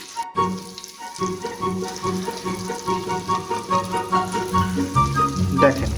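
Bangladeshi onion fritters (piyaju) frying in bubbling oil, a continuous crackling sizzle with a rhythmic pulsing bubble, close and moderately loud, with someone speaking over it.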